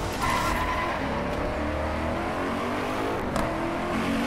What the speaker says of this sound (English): it's cool when it upshift, it makes like a little crackle